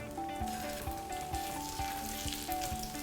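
Pork belly frying with curry paste in a pan over gentle low heat, a steady soft sizzle with faint periodic scrapes and clinks of stirring, close and continuous with no talk.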